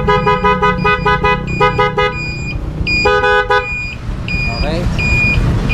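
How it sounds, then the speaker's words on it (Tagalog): Horn of a Yamaha Sniper 135MX motorcycle being tested after a wiring repair, sounding in several short, loud, steady honks in irregular bursts with pauses, close up in a workshop. "Busina."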